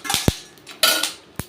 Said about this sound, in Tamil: வெடிக்க ஆரம்பிச்சிட்டாரு, ஜாக்கிரதையாக இருக்கணும்.